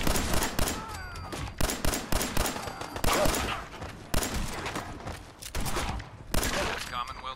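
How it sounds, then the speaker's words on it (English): Video game gunfire in rapid bursts, sharp repeated shots and automatic fire crackling loudly in clusters, with a player's voice talking over it at times. "stop shooting me, please"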